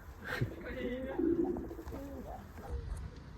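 A racing pigeon coos softly in a loft right after landing, a low warbling burble repeated under faint background chatter and rustling.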